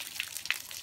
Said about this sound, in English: Washing your hands.